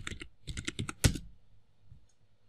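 Fingers tap out a short word on a computer keyboard in a quick burst of close, crisp key clicks, then one sharper keystroke like the Enter key, followed by near silence.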